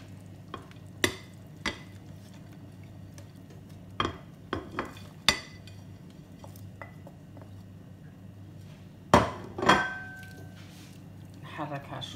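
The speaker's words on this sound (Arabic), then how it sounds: "نحركها شوية" Pasta is stirred in red sauce in a pot, with scattered metallic clinks and scrapes of a utensil against the pot over a low background hum, some strikes louder and closer together near the end.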